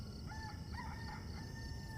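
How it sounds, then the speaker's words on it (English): A rooster crows at dawn in the Love and Deepspace video game, a single quiet, drawn-out call set against a steady soft background hum. "The rooster already crowed."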